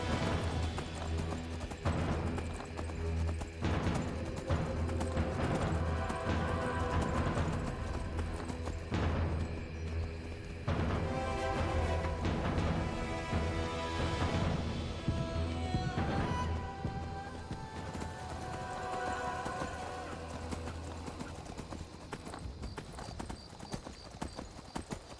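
A horse gallops in the video game Skyrim, with rapid rhythmic hoof clip-clops running continuously and fairly loud over an ambient game soundscape, with a brief whinny.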